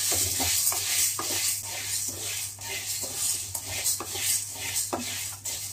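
Ingredients dry roasting in a pan on a low flame, with continuous stirring and regular scraping strokes of the spoon over a soft hissing background.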